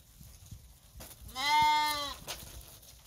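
At a livestock sale, one goat from a lot of six nannies and seven billies lets out a single loud, drawn-out bleat close by, surrounded by faint murmuring background noise.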